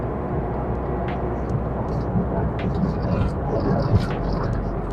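Honda Mobilio after a CVT overhaul pulling hard on an empty road during a test drive, steady low engine and tyre drone heard from inside the cabin, rising slightly toward the end.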